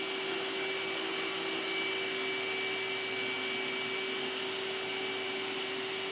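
An iRobot Roomba S9+ robot vacuum runs with a steady, even whirring hum and a constant high whine, heard alone at a moderate distance with no voices.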